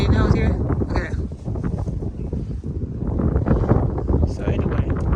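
Gusty wind buffeting the microphone in low rumbling bursts outdoors in a container vegetable garden, loud and close, with a voice talking over it.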